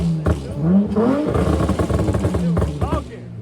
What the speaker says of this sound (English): I hear the intake talking.